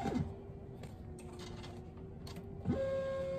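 A printer runs while printing orders: a quiet, steady mechanical hum with faint whirring, with a sharper clunk near the start and another near the end.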